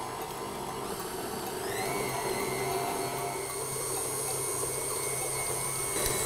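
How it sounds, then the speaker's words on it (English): An electric mixer whisks cupcake batter at medium speed, a steady close whirring drone that settles into a slightly higher, even pitch after a couple of seconds. "I'm just gonna whisk this all together just on a medium speed for about a minute."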